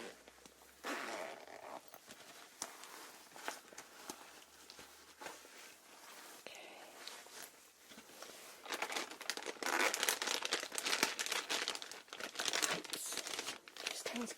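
Close, soft rummaging through a bag during an ASMR ear exam, with steady crinkling, rustling and zipper-like scrapes that grow louder and busier toward the end, and a voice speaking quietly at points.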